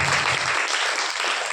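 Members of a church congregation clap their hands together in a dense, continuous round of applause at a prayer gathering, loud and steady throughout with no voices.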